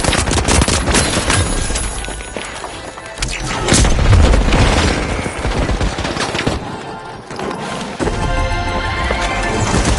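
A frag grenade goes off amid chaotic gunfire in the arena shooter The Finals, with a heavy boom near the middle and rapid bursts of shots and impacts throughout, loud and close.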